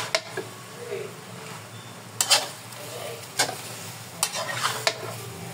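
Pork fries in oil in a pan with a soft constant sizzle, broken by several sharp scraping knocks of a utensil against the pan.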